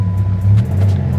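Dodge Viper GTS ACR engine rumbles low and steady from inside the car while driving, a deep close drone with a faint swell midway.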